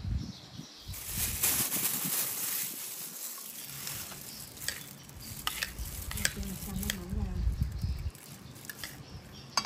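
A dish with fish sauce dressing and split Phu Yen peanuts being tossed and mixed, with soft stirring, scraping and wet rustling up close; a voice talks over parts of it.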